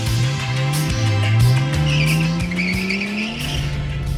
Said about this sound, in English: So you kind of think it's a normal car until you hit the rev limiter.